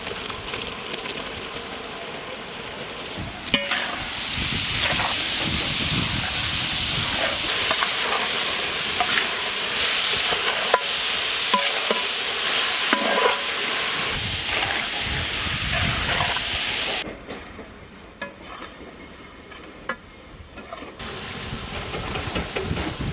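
Chopped tomatoes frying in a pan for paneer butter masala, a loud continuous hiss and sizzle with occasional crackles and stirring clatter, dropping to a softer simmer near the end.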